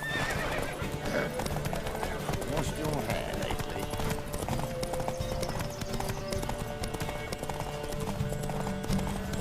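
Hoofbeats of a horse galloping in a race in The Witcher 3, rapid and continuous under game music, with voices talking over them.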